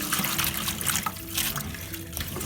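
Freshly picked garden spinach rinsed under running water in a kitchen sink, a steady close trickling and splashing that fills the whole stretch without pause or talk.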